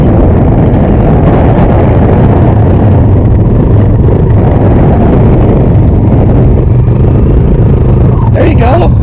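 A 2020 Kawasaki KLX140L dirt bike engine runs loud and close, a rough continuous rumble blown over by heavy wind buffeting, with speech partly masked beneath it.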